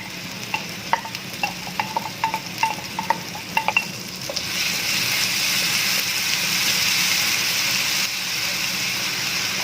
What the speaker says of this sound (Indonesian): selanjutnya bumbu ini akan saya tumis